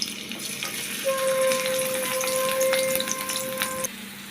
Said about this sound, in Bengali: আমাদের তেল গরম হয়ে গেছে এখন পেঁয়াজ কুচি দিয়ে দিলাম